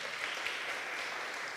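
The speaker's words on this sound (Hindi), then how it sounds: "जोरदार तालियों में welcome करेंगे." An audience at a church fellowship meeting claps steadily, a dense, even wash of applause that holds for a moment without voices.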